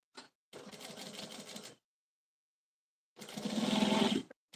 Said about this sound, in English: I'm going to sew my handle while it's in front of me.